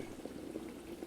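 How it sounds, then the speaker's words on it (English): Boiling water poured into a hot pan of browned sirloin tips sizzles and bubbles in a steady, low, fairly quiet hiss, close up, with no voices. "I'm going to deglaze this pan with some boiling water."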